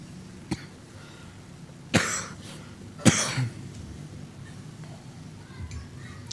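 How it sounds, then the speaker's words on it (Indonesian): A child coughs in short, sharp bursts, two distinct coughs with a smaller one before, close by over a quiet room background. "Batuk anak dibuatnya."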